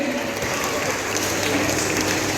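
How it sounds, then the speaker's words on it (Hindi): Applause at a district-level school prize distribution for an Urdu high school award: a hall full of people clapping steadily and densely, a continuous moderate roar of hands. "जोरदार तालियां आपके लिए।"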